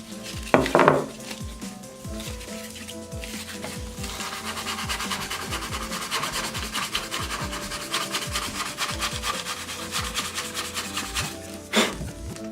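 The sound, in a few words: hand sanding guitar headstock wood to 320 grit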